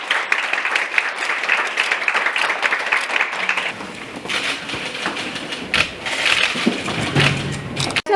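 An audience at a Seoul city agreement-signing ceremony on support for victims of digital sex crimes claps in a burst of applause for several seconds, then thins into scattered clapping, shuffling and thumps.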